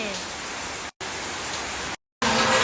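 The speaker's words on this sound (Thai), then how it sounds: "นั่งดูนั่งฟังสายฝนนะแล้วนะคะ" Steady rain falls during a stormy spell in Thailand, giving a dense, even hiss of drops broken by two brief cuts to silence before resuming louder.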